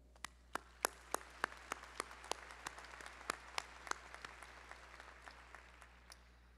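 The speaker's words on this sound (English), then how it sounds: "Please join me in a round of applause for our dedicated advisors who organized today's ceremony" Sparse, distinct hand claps ring out at a university business school commencement ceremony, individual sharp claps in an irregular rhythm over a faint, dense bed of distant applause that fades toward the end.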